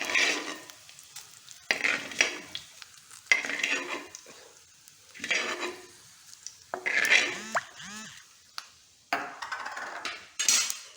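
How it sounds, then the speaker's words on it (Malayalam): Ginger and garlic sautéing in a pan for a restaurant-style fish curry, with repeated bursts of sizzling and stirring scrapes separated by short quiet gaps. "ഇഞ്ചിയും വെളുത്തുള്ളിയൊക്കെ നന്നായിട്ട് മൂത്ത് വന്നിട്ടുണ്ട്"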